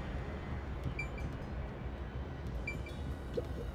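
Steady rumbling ride of a train car aboard the Amateras in Master Detective Archives: Rain Code, a continuous low rolling drone with faint high squeals and clicks throughout, no talking.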